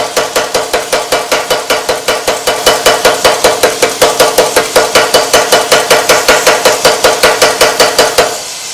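A homemade 15 lb Bulldog air hammer pounds hot half-inch round steel flat with a loud, rapid, perfectly regular series of metallic blows that runs for about eight seconds, then stops abruptly.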